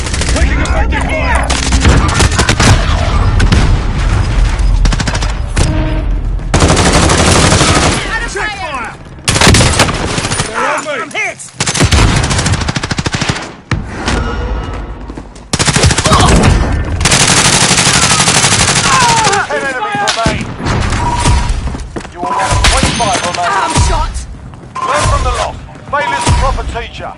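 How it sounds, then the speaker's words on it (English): Rapid bursts of automatic gunfire and single shots from a Call of Duty Warzone match ring out loud and near throughout, with brief pauses between volleys and some voices under the shooting. "Shoot them, not me! Taking effective fire!"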